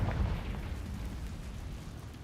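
Bombarda and Confringo explosion spells cast in the Hogwarts Legacy video game, a loud booming burst that decays into a sustained low rumble.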